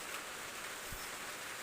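Rain falls steadily on a garden plot as a faint, even hiss. Beneath it sits a soft low thump, and no voices are heard.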